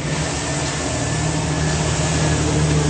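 A 2007 Chevrolet Silverado 3500 crew cab LT Z71 4WD idles steadily under the open hood, a constant low engine hum with a broad whooshing wash and no talk.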